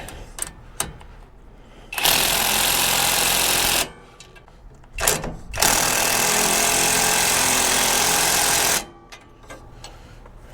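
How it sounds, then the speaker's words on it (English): Power tool tightening the drag link clamp on a 2017 Ford F350 4x4, two loud sustained buzzing bursts of a couple of seconds and about three seconds, separated by a pause with small clicks and handling noises. "let's tighten up the clamp on the drag link"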